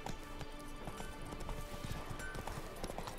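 Horse hooves clip-clop steadily in The Witcher 3: Blood and Wine video game, an even trotting rhythm over a busy game soundscape with faint background music.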